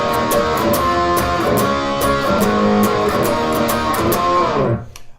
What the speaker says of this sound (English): So those power chords all together sound like this.